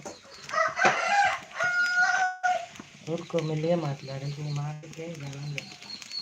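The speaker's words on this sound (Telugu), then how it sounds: "మా కోడి పిల్ల" A chicken clucks and calls in short, rising bursts, fairly close, with speech and other background voices underneath.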